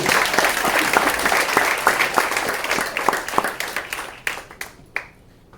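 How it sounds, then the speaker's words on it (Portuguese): Congregation applause at a church conference morning session, a full burst of clapping that gradually breaks into sparse individual claps and fades out. "Você pode aplaudir o Senhor por causa disso?"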